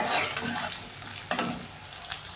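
Onions fry in mustard oil with a bay leaf, a dense, loud, close sizzle with scraping stirs and a couple of sharper clacks of the spoon against the pan.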